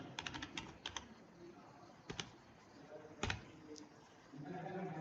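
Keystrokes on a computer keyboard while someone types code, heard as several quick bursts of close clicks separated by pauses, over a low room hum.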